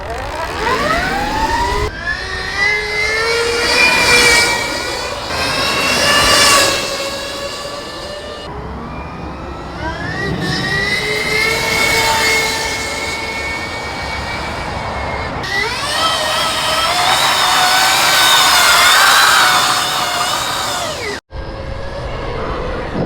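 Stark Varg 80 hp electric supermoto spinning its rear tire, a loud sustained whine that rises and falls in pitch through several long bursts, with no voices.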